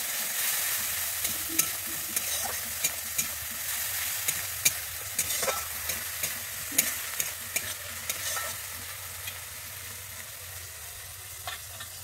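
A paste of cumin, coriander and Kashmiri chili fries in a pan with a soft, steady sizzle, while a spoon stirs it with intermittent sharp scrapes and clicks against the pan.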